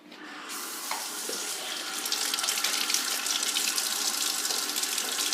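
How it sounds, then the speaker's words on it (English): Tap water runs into a Keurig coffee maker's water reservoir at a kitchen sink, a loud continuous splashing rush that rises after a brief start and keeps going steadily. "So I'm going to go over here to the sink."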